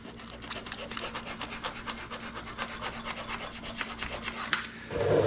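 A bike part is sanded by hand with a sanding surface in quick, rhythmic rasping strokes, close and steady for about five seconds before stopping.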